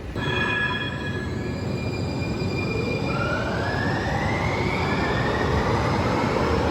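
A subway train rumbles loudly through San Francisco's Powell Street Station, its wheels squealing in rising, drawn-out tones over the steady roar.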